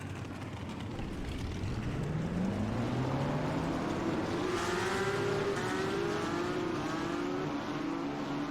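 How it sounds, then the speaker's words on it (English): Race car engines firing up together in a racing video game at Kansas, a loud, dense roar with rising revving whines from many cars at once, with no talk. "Let's get the command to fire engines for the Banquet 400 at Kansas"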